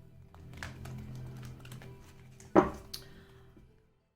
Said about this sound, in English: we're going to shuffle one more time for you